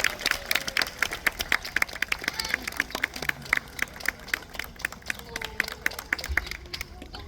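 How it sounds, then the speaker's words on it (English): Crowd applause with scattered clapping rises for a cockatoo performance at a parrot show at African Lion Safari, a steady outdoor patter with sharp individual claps throughout. "let's get a big round of applause going"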